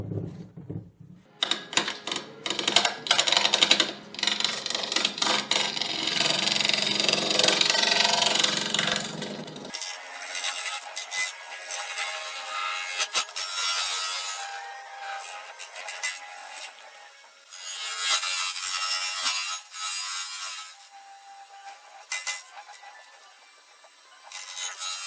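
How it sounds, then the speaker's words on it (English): A wood lathe rounds out a blank of recycled glow-in-the-dark shavings. The tool makes close, scraping cuts in rough bursts, and the low motor hum drops away about halfway through, leaving intermittent scraping and rubbing. "Let's get on the lathe and round it out."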